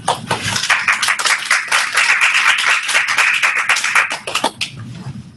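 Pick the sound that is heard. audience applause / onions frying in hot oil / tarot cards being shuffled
audience applause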